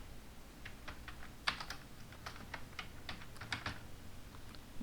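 Someone types on a computer keyboard, irregular soft key taps and a few louder clacks in uneven bursts, close but quiet over a faint background hum.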